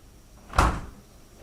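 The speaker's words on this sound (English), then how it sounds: "the refrigerator slammed shut as if something had just pushed it with great force" A refrigerator door slams shut once in a single loud, close thud with a short decay into quiet room tone, no voices.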